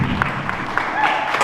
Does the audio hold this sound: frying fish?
no